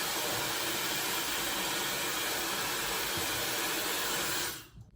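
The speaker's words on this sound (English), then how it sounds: "and with the blow dryer, I'm gonna go underneath." A hair dryer blows steadily with a loud, constant whoosh while drying hair from underneath with a brush, then cuts off abruptly at the end.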